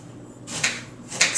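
A knife slicing down the middle of a peeled onion on a cutting board, two close crisp swishing cuts in quick succession.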